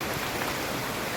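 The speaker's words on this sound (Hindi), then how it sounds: "2 घंटे से बारिश हो रहा है" Steady rain hisses evenly, a dense wash of fine pattering with no voices.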